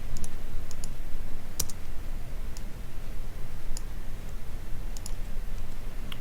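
Sparse, crisp mouse clicks in Blackboard, a few isolated ticks spread over a steady low background hum, fairly close and quiet with no talking.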